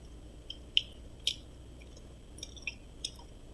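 Soft, wet chewing of a Pokémon Poké Ball-shaped gummy jelly close up, several squishy bites at irregular intervals in an otherwise quiet room.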